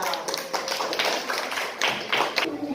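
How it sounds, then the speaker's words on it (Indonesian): Students in a classroom clap together during an elementary science lesson, a dense burst of close, fairly loud hand claps that swells and fades over a few seconds. "Tepuk tangan"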